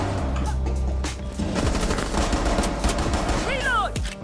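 Rapid bursts of gunfire from pistols in a ranked video game match, loud and dense throughout over game sound effects, with a whooshing sweep near the end.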